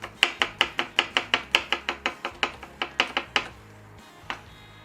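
A knife slices garlic on a cutting board for yakisoba, about eighteen crisp, close knocks in a quick, steady rhythm that stop near the end.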